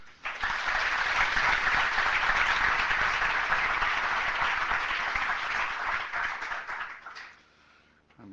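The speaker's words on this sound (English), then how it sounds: "please give a round of applause to the keynote speaker of day 2, Larry Wall." Sustained applause from a conference audience greets a keynote speaker of the day, a dense, steady wash of clapping that holds for about seven seconds before trailing off at the end.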